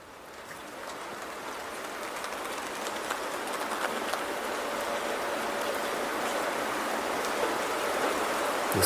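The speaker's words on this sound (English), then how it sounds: "let's take a look at some rain noises" A rain soundscape plays from a calming app, a steady even hiss of falling rain that slowly grows louder, with no voices.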